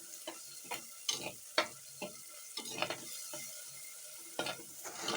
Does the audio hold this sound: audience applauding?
no